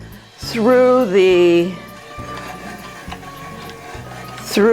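A tomato sauce machine's auger pushes tomatoes through a screen with a steady low mechanical hum and rhythmic knocking, while a high, pitch-sliding whine or voice rises over it at the start and briefly again at the end.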